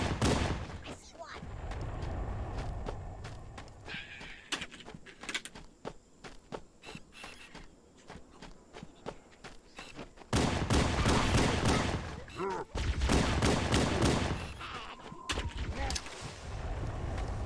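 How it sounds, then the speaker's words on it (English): Human pistol fired in Halo: Combat Evolved on Legendary, sharp shots cracking repeatedly amid plasma weapon fire and in-game battle noise, with someone talking over the action. "This is just a regular human pistol."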